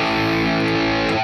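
Overdriven electric guitar played through a NUX Amp Academy amp and cabinet emulator: a sustained, distorted chord rings densely and steadily, close and loud, with no talking.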